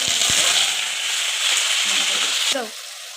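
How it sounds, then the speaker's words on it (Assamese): Onion paste tipped into a hot pan of oil, a loud bright sizzle that runs steadily and then drops off sharply, with a few clatters of the pan and spoon. "এতিয়া পিঁয়াজখিনি অকণমান ভাজি ল'ব লাগিব"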